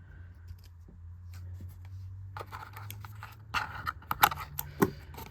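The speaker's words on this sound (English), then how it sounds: "So I do have the scissors this time, so I can unclip all of these." Scissors cutting plastic packaging ties on a Furby toy make sharp snipping clicks in a quick cluster near the end, after a stretch of low rumble and soft handling noise.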